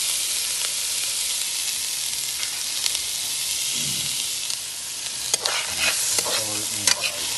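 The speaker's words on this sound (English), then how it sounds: "I put a little butter and oil. I don't need too much. Saute my food." Steak sautéing in butter and oil, a loud continuous sizzle close up with occasional scraping and stirring knocks, no talking.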